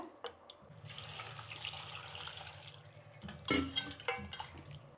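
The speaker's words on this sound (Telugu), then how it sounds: "ఇప్పుడు ఈ నీళ్ళు వంచేస్తాము." Water splashes and pours out of a vessel after mutton trotters are washed, starting with soft sloshing and rising to a louder gush with metallic clinks of a pot, close by, no talking.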